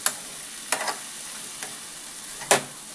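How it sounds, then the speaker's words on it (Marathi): Tondli (ivy gourd) being stirred with salt in a frying pan, a faint steady sizzle broken by a few sharp scrapes of the spoon against the pan; no voices. "मीठ टाकल्यावर ते व्यवस्थित मिक्स करून घ्यायचं"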